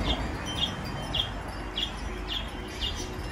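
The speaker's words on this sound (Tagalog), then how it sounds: "May alaga rin tayong mga ibon." Bright, high chirps repeat about every half second over a low, steady background hum, fairly faint and regular.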